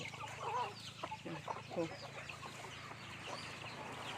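Fighting chickens cluck and squawk in short bursts at moderate distance, over a low background murmur.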